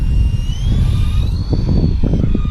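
A toy remote-control helicopter flies nearby, giving off a thin, wavering motor whine that drifts in pitch over a low, uneven rumble of close handling noise.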